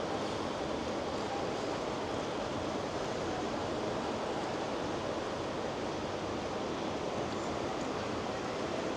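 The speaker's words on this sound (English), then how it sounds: "There's a waterfall in the back" A waterfall behind a cave near a fast-flowing river in Rishikesh gives a steady, even wash of rushing water, moderately loud and unbroken, with no voices.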